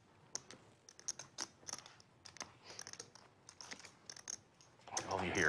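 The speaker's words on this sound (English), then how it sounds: "All you hear is just chips being shuffled." Poker chips shuffled at a high-stakes live PLO table, a rapid run of light clicking clacks in uneven bursts, growing denser and louder toward the end.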